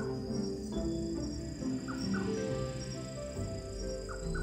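A bird calls repeatedly outdoors on a mountain campsite, short chirping notes over a dense steady chorus of insects and background hum, fairly distant and continuous throughout.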